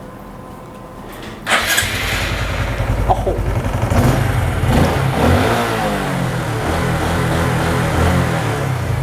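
A modified car engine at a car-tuning shop cranks and catches with a loud burst, then keeps running and revving hard and close, its rough, throaty roar filling the clip; a voice exclaims briefly.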